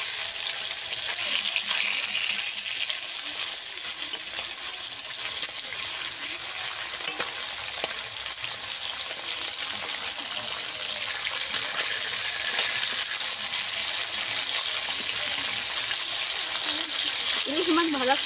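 Hilsa fish pieces sizzling in hot mustard oil after being turned over, a dense, continuous frying hiss that stays loud and even, with a faint voice-like tone near the end.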